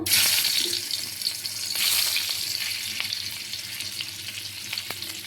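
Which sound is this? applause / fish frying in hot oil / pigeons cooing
fish frying in hot oil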